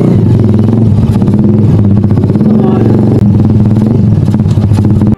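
Engine of a Honda Alpha 125 cafe racer motorcycle, loud and steady with a rough, clattering drone and shifting harmonic tones as it revs and runs throughout.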